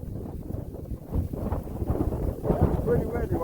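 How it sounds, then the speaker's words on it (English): Strong gusting wind during a July thunderstorm with a mesocyclone and shelf cloud, a rough, buffeting roar battering the microphone throughout. "it's pretty windy right now"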